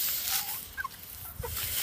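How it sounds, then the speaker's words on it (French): A small hen at a backyard poultry and rabbit pen gives a few soft, brief clucks and squawks, fairly faint against a quiet background. "Non, une petite poule."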